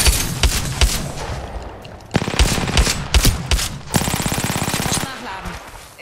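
Rapid bursts of automatic gunfire in Apex Legends, close and loud, in choppy strings of shots with brief gaps, while someone talks over the action.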